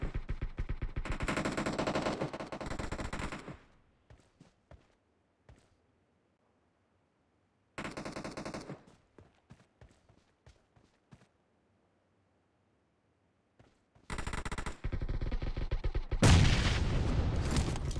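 Automatic gunfire from a BGMI team deathmatch on mobile, loud rapid bursts in three separate stretches with quiet gaps and scattered single shots between them.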